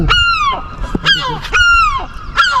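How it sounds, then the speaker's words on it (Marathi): Several loud, harsh seagull calls ring out close by in an English village, one after another in drawn-out descending cries, with little else in the background. "सिगलचा आवाज ऐकते का तुम्ही बघा पक्ष्यांचा आवाज"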